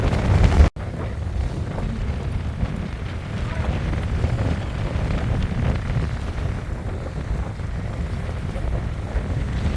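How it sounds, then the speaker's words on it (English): Strong wind at the Horseshoe Bend overlook buffets the microphone in a continuous loud roar, with low rumbling gusts throughout after a brief opening burst. "It is so windy."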